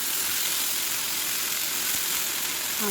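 Grated raw mango drops into hot oil with a cardamom pod and cloves for a mango pickle, giving a steady, fairly soft hissing sizzle that continues throughout.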